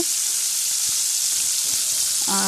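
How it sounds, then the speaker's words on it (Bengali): Two to three chopped onions fry in a pan after spices, producing a loud, steady close-up sizzle with light stirring throughout. "তো পেঁয়াজটা আমি খুব ভালোভাবে ভেজে নেব।"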